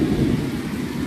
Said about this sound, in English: I know y'all hear that thunder.